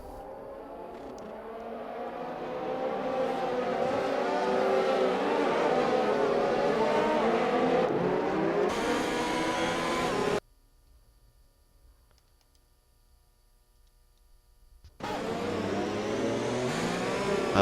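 Race cars at the start of a sim racing game round in Austria, a loud massed engine roar rising as the pack accelerates, cutting out abruptly into near silence before the roar returns.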